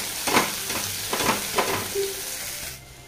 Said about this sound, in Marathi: आता आपण मसाला फ्राय करून घेऊ